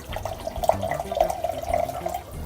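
Water from a Life Ionizer 9000 ionizer pouring into a clear glass, a steady close trickle with a ringing tone and bubbly patter, heard alone without speech.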